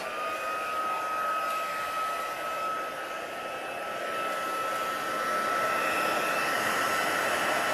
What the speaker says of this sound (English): let's bring in our heat gun again. So excuse the noise for a minute.